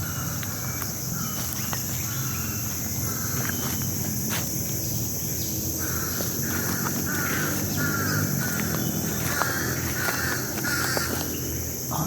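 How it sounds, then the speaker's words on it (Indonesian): Black crows caw repeatedly in an outdoor setting near an oil palm plantation, fairly clear calls over a constant high insect drone and crickets, with faint rustling movement. "Itu ada gagak ya,"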